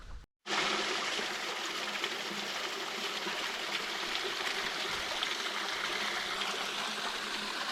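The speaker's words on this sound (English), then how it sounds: "I'm going to show you the wee waterfall that drops off just over the other side of this ridge." A small waterfall drops over a ridge into a stream, a steady, close, full rushing and splashing that runs on without a break after a brief pause at the start.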